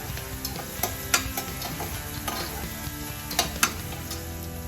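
Ingredients for rajma masala roasting in a pan give a steady close sizzle, with intermittent sharper clicks and scrapes of stirring, and no voices.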